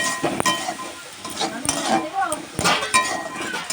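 A spatula stirs spice paste and tomato paste frying in a pan for an egg and cauliflower curry, with low sizzling, scraping strokes and occasional metallic clinks against the pan, close and busy.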